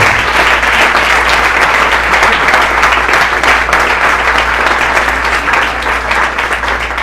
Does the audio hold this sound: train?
no